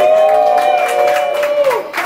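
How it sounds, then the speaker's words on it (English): A crowd at a battle rap cheering and whooping loudly, with applause beneath a sustained shouted voice. "It won't be fair if I don't say give it up for Super Motherfucking Man"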